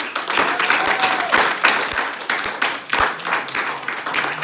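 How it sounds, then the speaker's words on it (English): An audience at a business training event applauds in a steady, dense wash of clapping, loud and close, with a few sharper individual claps standing out and no talk over it. "Give yourself a round of applause for being here"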